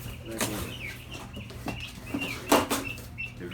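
Backyard chickens kept as pets clucking in short, scattered calls close by, with a louder burst of activity near the end over a steady low background hum.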